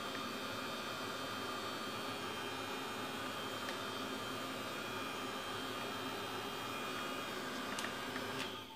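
A small Hittite heat tool for drying watercolour paint blows with a steady, even, fairly loud airy whir that runs throughout without a break.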